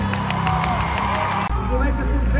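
A studio audience at the Influence House 4 final applauds and cheers for Albert, a dense, loud wash of clapping and crowd noise that holds steady throughout, with voices talking over it.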